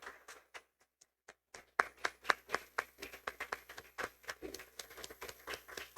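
A small church congregation claps hands at a Sunday service, beginning with a few scattered isolated claps, then a short pause before sparse, uneven clapping builds into a thin, quiet, irregular patter.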